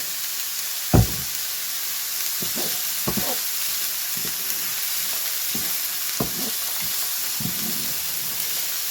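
Vegetables, including carrots for a quiche, sauté in olive oil in a pan with a steady close sizzle, punctuated by scattered knocks and scrapes of stirring.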